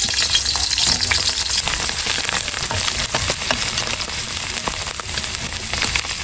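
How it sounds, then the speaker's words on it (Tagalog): Dried tuyo fish fries in a kawali at a family picnic: loud, dense, continuous crackling and spattering oil close by, with occasional scrapes and ticks, and no talking. "Ipiprito ko na po ngayon yung mga tuyo."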